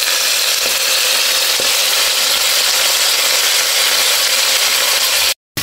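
Food fries in a pan with a loud, steady, close sizzle that fills the whole stretch, cut off by a brief dropout near the end.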